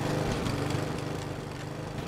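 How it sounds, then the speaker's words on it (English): A lawn mower engine runs indoors in a video game, a loud continuous buzzing drone that fills the whole moment without any speech. "you got the lawnmower in the house"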